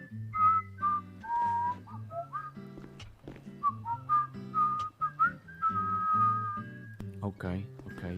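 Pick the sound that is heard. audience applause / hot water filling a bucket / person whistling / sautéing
person whistling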